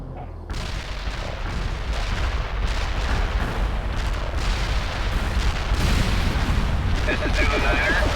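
A heavy artillery barrage in the real-time strategy game World in Conflict rumbles as a loud, continuous roll of booming shell impacts and explosions that builds steadily, with sharp crackling bursts near the end.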